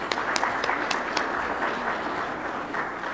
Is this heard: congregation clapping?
yes